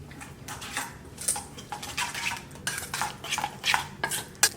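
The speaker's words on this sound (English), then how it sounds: "we're gonna give it a little mix" Seasoning with fresh black pepper is stirred into a bowl for Argentine choripan, heard as steady scraping and light clinking of a utensil against the bowl, close and moderately loud, with no voices.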